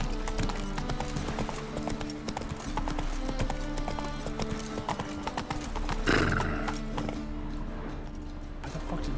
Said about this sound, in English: Why the fuck did Geralt just make a horse noise?